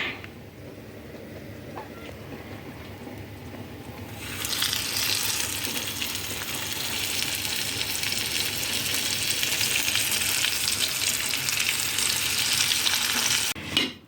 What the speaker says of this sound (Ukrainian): І залишилося тільки посможити рибку.